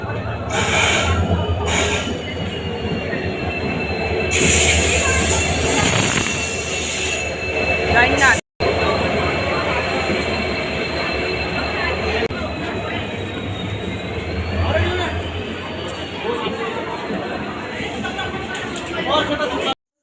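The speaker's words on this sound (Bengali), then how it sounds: "তো দেখো ট্রেন, এই যে ট্রেনটা আসতেছে।" A train pulls in and rolls slowly along the rails at a station in Jalpaiguri, with a loud rumbling rush, squealing wheels and a horn-like tone, while people chatter nearby.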